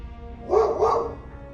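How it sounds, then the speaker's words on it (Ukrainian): A single dog bark with a double-pulsed shape, close and clear, used as a sound effect in a narrated Ray Bradbury horror story, over a low background hum. "пес гавкнув"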